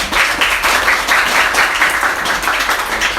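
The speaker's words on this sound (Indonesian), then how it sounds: "tepuk tangan" A classroom group bursts into loud, dense applause, many hands clapping together in a steady burst for about three seconds.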